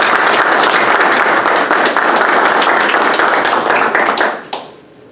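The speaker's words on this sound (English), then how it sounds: "let's give another round of applause to our newest Dirt Boyz." Loud, close applause at a military class graduation, crisp individual claps within a dense crowd roar that holds steady for about four seconds before quickly dying out into near silence.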